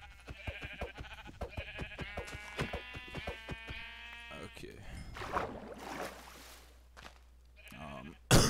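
Sheep bleat in Minecraft, several wavering calls in quick succession up close, followed by clicks and game noises as someone talks over it.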